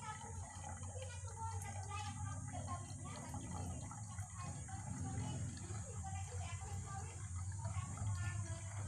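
Water rushes steadily through an ordinary hose in a gravity-fed transfer, a constant gushing flow that holds at an even level throughout.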